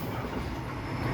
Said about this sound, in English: a freight train passed by